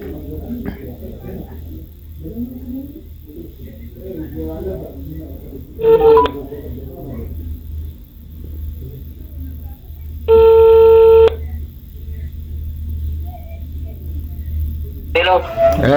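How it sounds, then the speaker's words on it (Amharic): During a phone call, short bursts of dial tones and ringing stand out loud and clear over a quiet background. Someone talks between the tones. "ለማንኛውም እየደወልኩለት ነው።"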